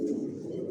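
Original Johnson-line racer pigeons give a short, low, continuous coo, a soft throaty hum lasting under a second with no voices.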